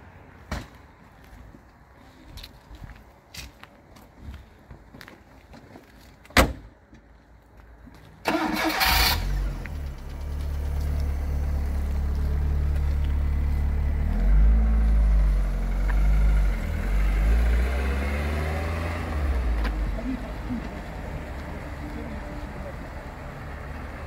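A Polonez Caro Plus with a 1.4 16V Rover engine cranks and fires after a few quiet clicks and knocks, then settles into a steady, close idle that continues to the end.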